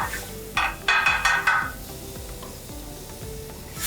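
Chili paste cooks in a restaurant kitchen pan with a steady close sizzle, joined early on by a few bright metallic stirring scrapes that fade into continuous frying.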